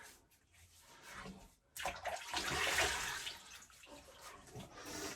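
Water splashing and running from a tap as a man wets his face before a shave, a loud burst of splashing rising midway and then easing off, heard close up.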